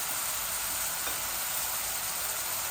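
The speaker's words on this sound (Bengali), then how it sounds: "এই আমার পেঁয়াজগুলা একটু ভাজা হয়ে যাক" Onions sizzle steadily in a hot pan, a constant close hiss of frying with no pauses.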